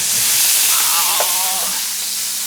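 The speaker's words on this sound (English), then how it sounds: "Put the capers into the oil so that they fry." Capers frying in hot olive oil give a constant, loud, close sizzle with crackling spatter, steady throughout and without talk.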